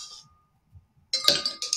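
Two ice cubes clink into a glass for a 1946 cocktail recipe, giving a bright burst of glassy clinks and rattles after a near-silent pause, close up and crisp.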